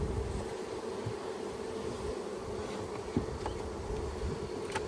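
Honeybees buzz steadily around a long hive outdoors, a dense continuous hum with a few individual bees passing closer, and no talk.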